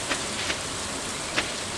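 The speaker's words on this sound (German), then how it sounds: "aber es regnet die ganze Zeit" Steady rain in the Stardew Valley PC game, a soft continuous hiss of falling drops with a few slightly sharper splashes standing out, heard alone with no talking.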